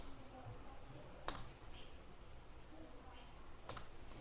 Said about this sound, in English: I've just double clicked on one there, then right click, copy image